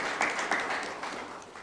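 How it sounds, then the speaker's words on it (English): Audience applause greeting AmaZulu Football Club at the Prince Mangosuthu Buthelezi Legacy Cup, a dense wash of clapping at steady loudness with a few sharper bursts, brief and unbroken. "AmaZulu Football Club, who are here, let's give them a round of applause"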